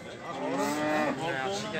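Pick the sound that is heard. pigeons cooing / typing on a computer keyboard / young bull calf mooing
young bull calf mooing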